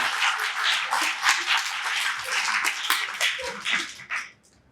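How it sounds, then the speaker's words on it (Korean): An audience claps together at a church sermon, a dense burst of applause that rises and falls for about four seconds, then fades to quiet. "좀 박수를 한번 쳐줘요."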